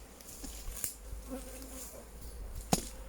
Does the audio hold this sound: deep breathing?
no